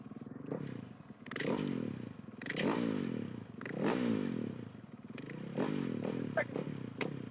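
A Husqvarna 450 rally motorcycle leaves the start line of the Abu Dhabi Desert Challenge prologue, its engine revving in repeated rising surges that swell and fade across several seconds, with crowd and commentator voices underneath.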